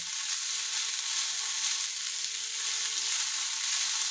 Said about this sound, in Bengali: এটা কিন্তু নাড়াতে হবে, বাসমতি চাল ভেঙে যায়।